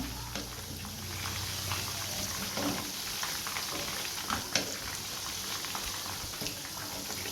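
Chicken 65 pieces deep frying in oil over a medium flame, a soft continuous bubbling sizzle with faint crackles and small utensil knocks, quiet and close, with no one talking.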